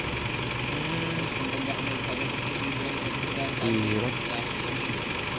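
A car engine idling during an EGR valve check, with a steady mechanical hum and faint knocking, while people talk nearby over it.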